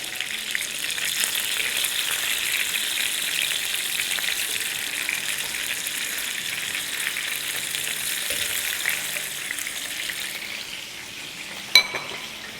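Soft juicy kebabs sizzling in hot oil in a pan as they are flipped, a loud, steady close hiss throughout, ending in a single sharp clink of the utensil against the pan.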